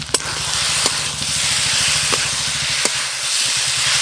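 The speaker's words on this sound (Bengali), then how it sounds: "ভেজে রাখা আলু আর ফুলকপি মশলাতে দিয়ে আর একটু ভালো করে কষবো" Fried potatoes and cauliflower sizzle and hiss in spices in a pan, a close, steady frying noise over a low pulsing stove rumble, with a few sharp pops.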